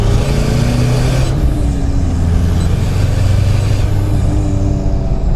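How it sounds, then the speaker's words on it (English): A compound-turbo Toyota Hilux engine drones loudly and steadily at close range. A sharp rush of air breaks in partway through as the wastegate opens, then cuts off a few seconds later while the engine keeps running, and no one speaks. "as you can hear, that wastegate opens up and it just gives it that aggressive touch"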